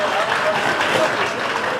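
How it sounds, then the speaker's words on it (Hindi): Applause at a railway retirement function for a colleague leaving after 34 years of service, a short loud burst of dense group clapping, close and steady, with faint crowd murmur mixed in. "तो साथी के लिए जोरदार तालियां"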